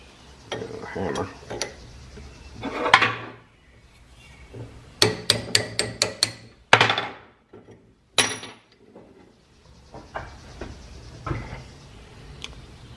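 A hammer strikes a metal pin in a steam-powered machine shop, with a quick run of sharp ringing metallic blows, some isolated knocks and clanks between quieter handling sounds.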